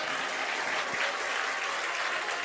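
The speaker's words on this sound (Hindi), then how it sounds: "ताली ज़्यादा तो नहीं बजा दिया आपने।" An audience claps together in a continuous, even wash of applause, fairly loud and sustained throughout, with no talking over it.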